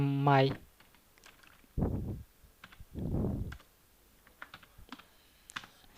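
Keys clatter on a computer keyboard while text is typed into Microsoft Word, producing scattered light clicks in short bursts between stretches of someone talking.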